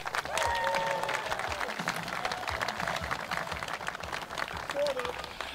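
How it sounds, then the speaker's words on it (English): Crowd applause at an outdoor long drive golf competition as a world champion competitor is introduced, steady clapping from a moderate crowd with faint whistles and cheers mixed in. "let's have a round of applause for Maurice Allen."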